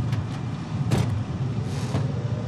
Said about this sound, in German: Das ist ein Auto.